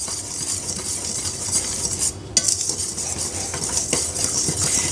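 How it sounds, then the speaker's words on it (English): Dry baking ingredients, including flour, baking soda, baking powder and salt for banana bread, whisked together in a bowl, with continuous brisk scraping and light metallic clinks, close by and with no voices. "I'm going to whisk all of the dry ingredients together"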